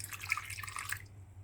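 Half a cup of warm water poured into a bowl of sugar for pizza dough in a home kitchen, a short close splashing trickle that stops abruptly after about a second.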